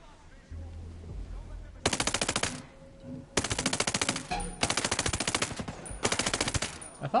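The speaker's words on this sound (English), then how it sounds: "I thought my gun sounded kind of loud" Loud unsilenced automatic gunfire from a rifle in Ghost Recon Breakpoint, four sustained rapid bursts with short pauses between them, close and dominant with a low rumble beforehand.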